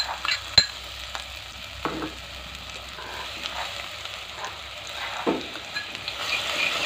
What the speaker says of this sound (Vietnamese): mình sẽ cho cái hành tỏi khô còn lại vào này